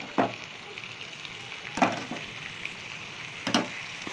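Paneer and boiled potato curry in a pan, a soft low sizzle with three distinct stirring scrapes spaced well apart, fairly quiet.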